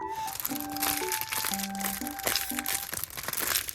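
Crisp handmade paper squishy crinkling and crunching, close and continuous, with a faint tonal hum running underneath.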